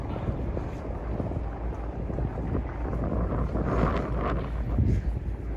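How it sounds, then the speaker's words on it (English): Steady wind buffeting a microphone outdoors, a low continuous rumble that swells slightly louder toward the end, with no voices over it. "here comes the wind"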